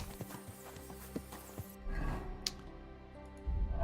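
Horse hooves clip-clop at a walking pace in the video game Kingdom Come: Deliverance II, a run of sharp, spaced knocks up close, followed by a louder rumbling shuffle and a brief whinny-like sound.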